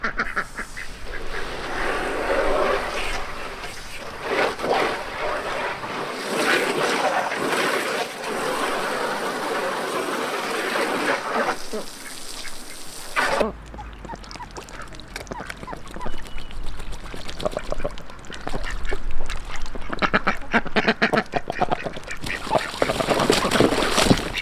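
Ducks in a backyard chicken yard with a pool quack and honk steadily and at close range, a busy overlapping chorus of calls over outdoor noise.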